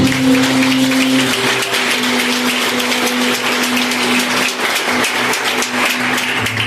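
A church congregation claps in praise at an evening service, a steady loud patter with a sustained tone droning underneath throughout.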